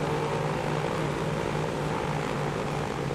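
A Douglas DC-3 propeller airliner's engines droning in the game Transport Fever, a constant loud, even hum with low throbbing tones and no talk over it.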